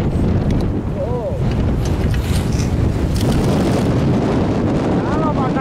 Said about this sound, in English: Windy right here.